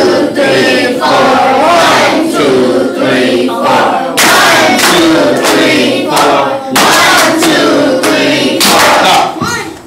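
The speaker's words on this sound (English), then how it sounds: "We want to hear your clapping over your counting." A class claps a rhythm along with counting, loud sharp claps in bursts across the whole stretch, several rounds of group clapping with crowd voices mixed in.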